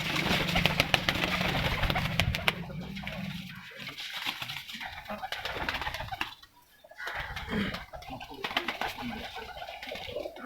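A flying (parwazi) pigeon coos near and clear in the opening seconds, followed by scattered rustling, tapping and light movement sounds.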